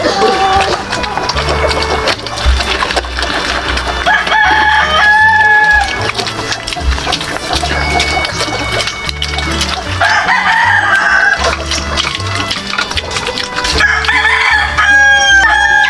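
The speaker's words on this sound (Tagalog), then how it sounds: "magpapakain po ako ng mga alaga kong mga manok" Pet chickens at feeding time, with a rooster crowing repeatedly and hens clucking loudly and continuously against a busy, dense background.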